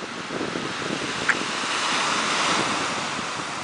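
Ocean waves and surf wash steadily at Doheny State Beach in San Juan Capistrano, a continuous broad roar mixed with wind buffeting the microphone, with no voices.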